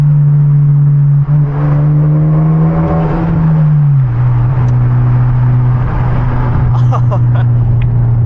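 A Hyundai Genesis Coupe with a manual gearbox and aftermarket exhaust drones loudly and steadily from inside the cabin, its pitch dropping as the driver downshifts on a night drive, with the engine note climbing again afterward.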